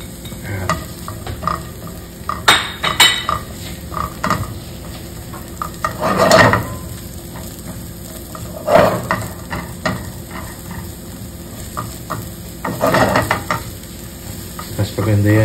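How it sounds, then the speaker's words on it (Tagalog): Mushrooms sautéing with onion in hot oil for a beef stroganoff, a steady sizzle broken by sharp scrapes and clacks of a spatula stirring the pan, with louder bursts every few seconds. "Gigisa lang natin sa sibuyas yung ating mushroom"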